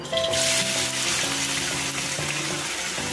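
Chopped tomato and onion with salt and turmeric fry in oil in a wok, sizzling loudly and continuously up close, with a faint tonal hum running underneath.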